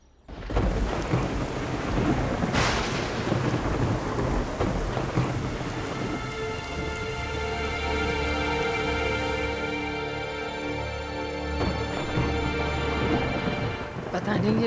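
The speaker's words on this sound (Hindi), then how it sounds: "पता नहीं ये बेमौसम बारिश कैसे शुरू हो गई।" Sudden unseasonal rain pours down steadily and loudly, with low rolling thunder rumbling beneath the downpour.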